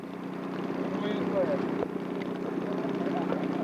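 A scale model airplane taxis at a scale aircraft show, its engine a steady, moderately loud drone from start to finish as people talk nearby.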